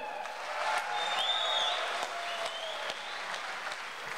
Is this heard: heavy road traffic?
no